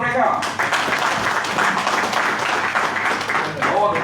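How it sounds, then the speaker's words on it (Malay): Crowd applause at a Malaysian political rally on Langkawi, a dense, steady wash of clapping sustained for several seconds and fairly loud throughout. "Satu tepukan untuk mereka."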